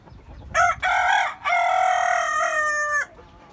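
A rooster crows loudly and close by among chickens kept in a rooftop garden, one long ringing crow after a short opening call, with no voices over it.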